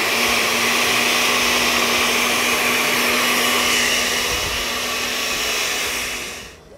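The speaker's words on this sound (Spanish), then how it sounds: "vamos a licuar." A blender whirs steadily as it blends a gelatin mixture for a Christmas gelatin ring. The loud, even motor drone runs without a break and then winds down at the end.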